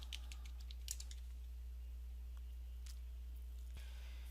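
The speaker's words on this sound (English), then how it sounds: "you can just type in backdrop" Faint, soft clicks of someone typing a short word on a computer keyboard, clustered in the first second with a few sporadic taps later, over a steady low hum in a quiet room.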